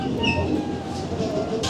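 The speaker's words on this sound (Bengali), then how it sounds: "ট্রেন ছেড়ে দিল।" Train pulling out of Jayrampur railway station in Chuadanga, a low rumbling wagon noise with faint squeaks, steady and fairly close throughout.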